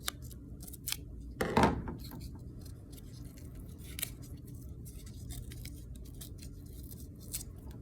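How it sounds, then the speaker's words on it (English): Scissors trim the paper edges on a birdhouse covered in book pages, giving a few quiet, sparse snips and a brief crisp cut, with faint handling noise between them. "So I'm actually going to trim the sides a little bit"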